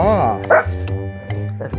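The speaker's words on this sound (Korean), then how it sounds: "너 왜 짖는지 알겠다" A Shih Tzu barks and yips indoors, mixed with a person talking over it. The barks are short, sharp and near, in uneven bursts under the voice.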